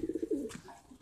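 Pigeons cooing where they gather around scattered feed, a soft, faint series of low rhythmic coos heard close by for about a second.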